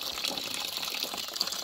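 Water gushing steadily from a tap or hose into a container, being filled to water tomato plants and ferns in a garden, a continuous close hiss with no talk.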